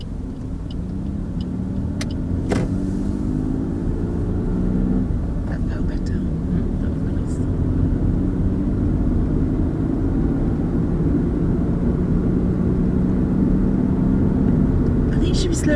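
A car slowing down as the driver comes off the gas, a steady low rumble of engine and road noise lasting throughout, with a couple of faint clicks near the start.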